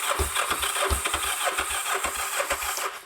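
A Kawasaki GPZ 500S motorbike left unused for four years cranks on its starter motor, a fast, uneven chugging churn with rattling pulses that almost catches but never fires, close and fairly loud with no talking.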